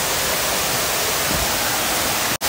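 Bijakasha Waterfall in Bastar roars with water flowing over the falls, a loud, steady, close wash of broadband rushing noise that ends in a brief dropout just before the end.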